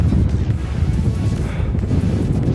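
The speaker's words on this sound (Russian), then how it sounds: "Ветер прям сдувает" Loud, blustery wind on the summit of Mount Koshka near Simeiz, Crimea, buffets the microphone in a continuous low roar, with no voices.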